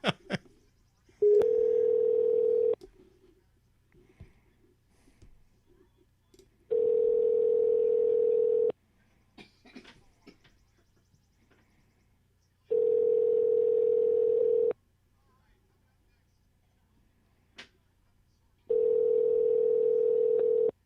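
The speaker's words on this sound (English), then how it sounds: "Make sure I dialed that right." Telephone dial tone after dialing a number, a steady hum repeating in four even bursts of about two seconds each, separated by quiet gaps, loud and close with no talk over it.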